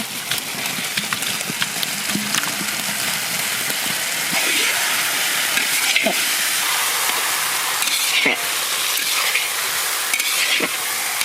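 A stingray curry with fried potatoes sizzles in a pan and is stirred steadily, a dense continuous hiss broken by scraping strokes, close and alone.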